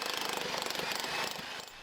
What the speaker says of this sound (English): it's actually going quite well with this big jackhammer. It's breaking that stuff up pretty good